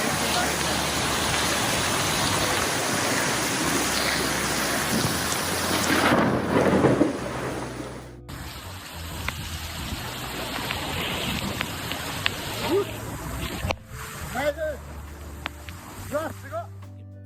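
Heavy rain pours steadily during a September 2025 Tokyo storm while thunder rumbles, and a voice speaks over the downpour.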